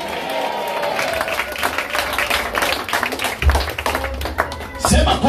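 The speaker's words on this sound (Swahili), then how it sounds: "Semeni amina, upige makofi." A church congregation claps together, dense steady clapping with crowd noise, loud and close, while voices carry on throughout.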